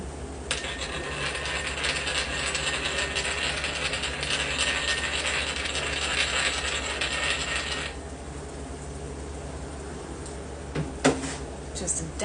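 Pepper is ground into a pot of chicken and dumplings, a rapid scratchy ratcheting grind for several seconds up close, then quieter kitchen sounds with a few small clicks and knocks.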